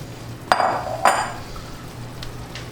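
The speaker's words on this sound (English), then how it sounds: "Put the lid on." A metal lid clanks twice onto a cooking pot in quick succession, each a bright, close clink with a short ringing decay, followed by faint sizzling and a couple of softer taps.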